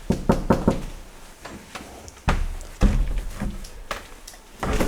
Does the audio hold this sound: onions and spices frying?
no